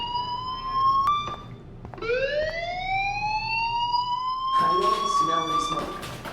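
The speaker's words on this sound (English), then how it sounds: "do you hear that fire alarm?" Fire alarm in the video game Life is Strange, a steady rising electronic wail that climbs in pitch and holds, loud and prominent, with a burst of broadband noise near the end.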